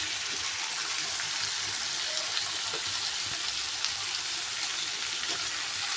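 Pre-boiled cluster beans (guar) sizzle and fry steadily in a pan while being stirred, a continuous close hiss with faint scraping throughout and no talk.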